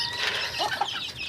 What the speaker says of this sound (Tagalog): Grabe nakaragulo ng mga manok.